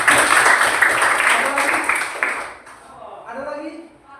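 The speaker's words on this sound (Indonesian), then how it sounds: "aplaus." A classroom of students claps briefly together, a dense burst of hand claps that fades within a few seconds. A teacher's voice comes in as the clapping dies down.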